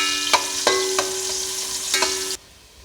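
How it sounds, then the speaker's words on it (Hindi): Sliced onion frying in oil in a pan: a steady, close sizzle broken by several metallic clinks from a stirring spoon, then cutting off abruptly near the end. "ये देखिए हमारी प्याज ब्राउन होना शुरू हो गई।"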